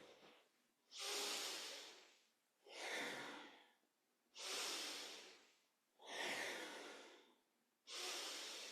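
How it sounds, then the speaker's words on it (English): Deep, full breaths during a Kundalini yoga spinal flex, four long loud inhale-exhale cycles at a slow, steady pace, close and breathy with no talking. "Nice full deep breaths at your own pace"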